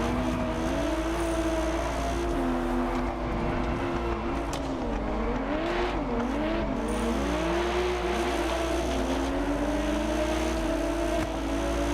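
Car exhaust note in the Test Drive Unlimited Solar Crown racing game, a continuous loud engine drone that rises and falls with gear changes and throttle through corners, steady throughout with no talk.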